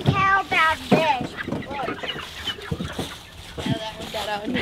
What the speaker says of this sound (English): He's a huge rooster